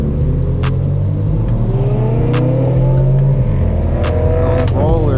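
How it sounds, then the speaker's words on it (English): A BMW with an AWE exhaust revs and accelerates hard, its loud, close engine note climbing and dropping with sharp crackles and pops near the end, and quick gear changes breaking the rise. "So he's also got the AWE exhaust on his"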